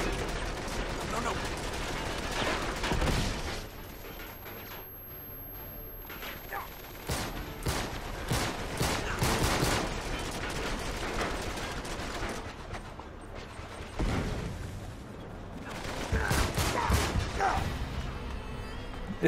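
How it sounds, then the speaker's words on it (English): Machine gun fire in the PS3 game Uncharted 3: Drake's Deception, repeated loud bursts of rapid shots and impacts spread over the stretch, with quieter gaps and occasional talk. "Oh, there's a machine gun up there"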